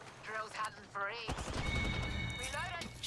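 Apex Legends gunfire, rapid bursts of shots clustering over the second half, loud and close, with a player's voice speaking just before the shooting starts.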